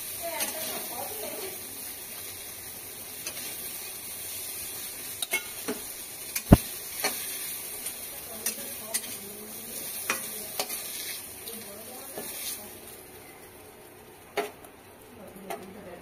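Prawns frying hard in oil in a pan until deep red, a steady close sizzle with occasional sharp clicks and taps of a utensil against the pan.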